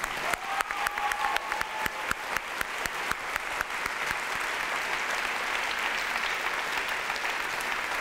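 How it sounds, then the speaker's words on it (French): Applause from the audience at a Swiss science-communication final, greeting the fourth contestant: dense sustained clapping that starts with sharp distinct claps and swells into a steady wash lasting several seconds. "Merci d'accueillir, en faisant un maximum de bruit, la 4e à s'élancer ce soir, Marie-Hélène Girard."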